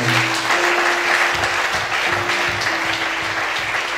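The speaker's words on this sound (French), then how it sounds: "Acclamons très fort pour le Seigneur" A church congregation claps loudly together in praise of the Lord, a dense, continuous burst of applause filling the room for a few seconds, with a faint voice and crowd murmur beneath.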